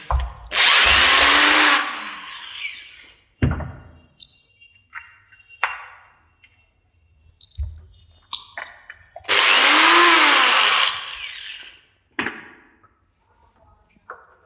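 A power screwdriver backs a Phillips screw out of a 7 kg Saw Master demolition hammer under repair, with two loud whirring bursts of a few seconds each, separated by clinks and knocks of the metal housing.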